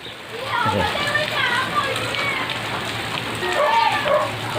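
Steady rain patters on a tricycle close by, with voices talking over it and faint chatter in the background.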